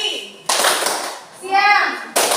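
Children in a classroom clap their hands twice, two loud broadband bursts of clapping from close by, with a voice sounding between them.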